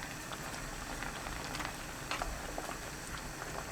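Soup with potatoes, small rice-cake pieces, mushrooms and garlic bubbles in a pot, with a dense, steady burbling and popping close by that continues without pause and no talking.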